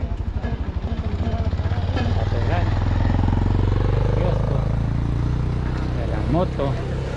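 A motorcycle engine on a city street in Guadalajara, loud and close, its rumble swelling and holding steady as it passes, with people talking over it.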